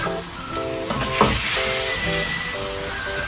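Pork sizzling hard in a hot pan as a little water is poured in, a steady loud hiss with a brief spattering burst partway through, no voices.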